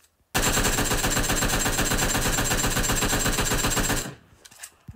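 An AKM rifle in a shooter video game fires a long, loud, rapid automatic burst of about four seconds and then stops abruptly, with brief quiet rattles afterward.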